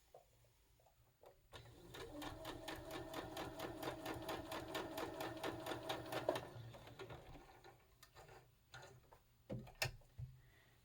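Sewing machine with a quarter-inch foot stitching hexagon quilt strips, a steady rapid needle run of about five seconds with faint handling clicks before and after, alone.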